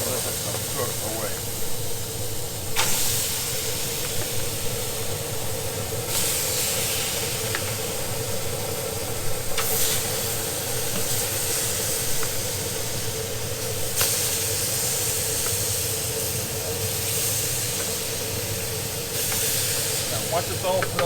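Marinated chicken cooking on a modified flat grill, a steady hissing sizzle throughout with faint intermittent clatter, and a person talking over it.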